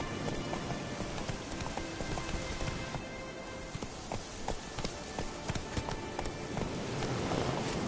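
A horse galloping in Witcher 3: Wild Hunt, a run of quick hoof clops over a dense, steady wash of ambient noise, moderately loud and without speech.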